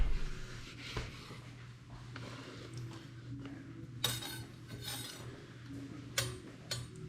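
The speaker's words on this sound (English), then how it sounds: "You just keep on cutting, slicing against the grain" A knife slices through smoked brisket against the grain, making quiet, close scrapes and light irregular taps and clicks on the cutting board, with no talking.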